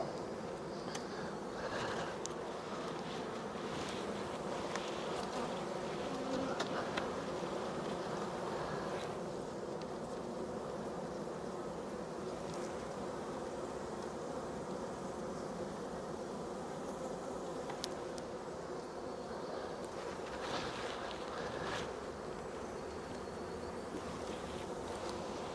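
Honey bees buzzing around an open full-size hive during a nucleus transfer, a dense steady hum from many insects close by, with no speech.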